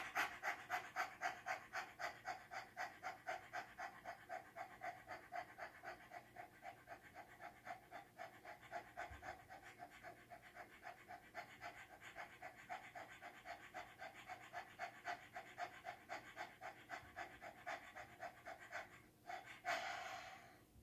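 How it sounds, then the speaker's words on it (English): Rapid rhythmic breathing exercise, with quick regular in-and-out breaths repeating steadily and close for about twenty seconds, ending with a slightly louder exhale. "Okay, big breath in. Breath out to clear. Breath in."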